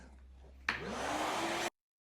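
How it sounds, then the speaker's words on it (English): A shop vac with a brush attachment cleans a cedar screen door before varnishing, roaring steadily for about one second before cutting off abruptly, with no talking. "I'm going to vacuum this guy off real quick. So using a shop vac with a brush attachment on the end."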